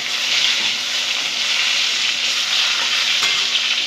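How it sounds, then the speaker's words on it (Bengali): Pointed gourd (potol) frying in hot oil gives a steady, close sizzle with no pauses, interrupted now and then by the scrape of stirring. "এই পটল ভাজা"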